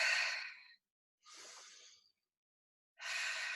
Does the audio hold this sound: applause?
no